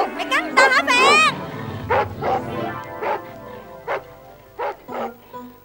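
A dog barks and yips in short bursts during a cải lương stage performance, mixed with loud sung and spoken lines from performers.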